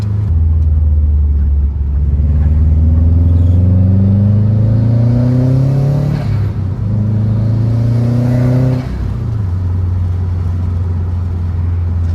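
A Subaru WRX engine pulls at light throttle in second gear, a loud close drone rising steadily in pitch, dipping briefly around a shift-like break, then climbing again before settling.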